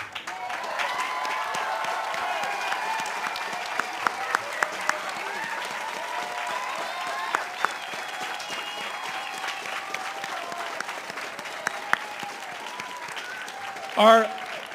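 A large crowd at an Evergreen State College commencement claps steadily and continuously for the faculty, a broad even wash of applause with a few cheers and voices mixed in and a brief louder burst near the end.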